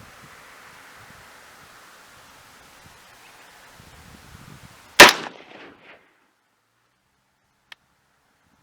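A single sharp rifle shot, 6.5 Creedmoor or 6.5 Grendel, fired outdoors at a range, cracking loudly above faint rustling and fading into a short echo, followed by near silence and a small click.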